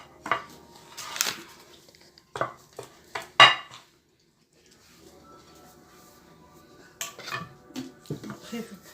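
Makrout dough being mixed with water in a bowl by hand, heard as close, irregular clacks, knocks and squelchy rubs in short bursts separated by quiet pauses, with faint speech.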